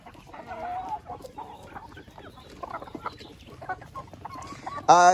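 Several chickens cluck and murmur nearby in scattered bursts, ending with a louder, sharper squawk.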